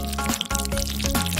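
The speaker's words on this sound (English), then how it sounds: "Just don't forget to add the water." Water is poured into a squishy homemade fish tank, a short burst of splashing and trickling liquid with a brief pause midway, close and fairly quiet.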